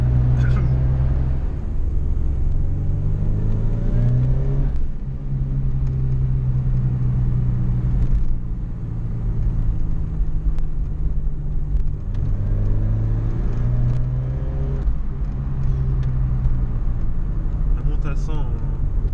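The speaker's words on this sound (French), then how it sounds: "Voilà, 3500 tours minute, ça part vraiment le turbo" A Ford Sierra RS Cosworth turbo engine pulls hard under acceleration from inside the car, a loud steady droning rumble with rising rev sweeps and gear changes, while people talk over it.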